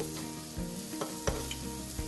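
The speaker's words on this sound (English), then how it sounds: "And you really just stir this around to coat them." Roasted macadamia nuts stirred in a hot pan with vanilla and sugar, giving a steady sizzle with soft scraping strokes and a light clink or two, close and fairly loud.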